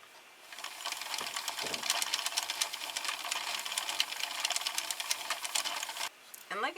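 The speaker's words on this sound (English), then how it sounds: "My machine is in tube knitting mode at the moment, so I'm just going to crank until I have enough fabric" A Sentro knitting machine in tube knitting mode being hand-cranked with K+C Pearl yarn, a rapid rattling clatter of needles going steadily for several seconds, close and fairly loud, ending in brief handling noise.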